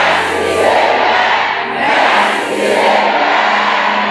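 A church congregation shouts praise together in a loud, sustained crowd roar that swells and dips in waves, filling the room with many overlapping voices.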